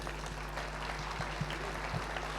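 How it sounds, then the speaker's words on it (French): An audience applauds candidates after a municipal election debate in Draguignan, a steady, moderately distant clapping with a low hum beneath it. "On peut les applaudir."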